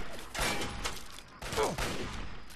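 In the video game Fallout 3, a super mutant fires a minigun from far off, with two bursts of loud rattling gunfire separated by a brief lull.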